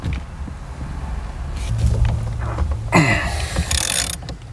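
Ratcheting clicks as a wrench works loose the nylon locking nut on a 1992 Miata steering wheel, a close run of quick mechanical ticks and clunks over a low background rumble, with no talking.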